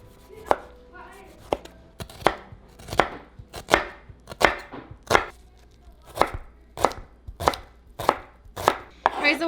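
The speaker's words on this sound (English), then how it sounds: "we're going to dice a Roma tomato and 1/4 of our onion" A kitchen knife dices a Roma tomato and a quarter onion on a cutting board, giving about a dozen loud, evenly spaced chops close by, with no talking.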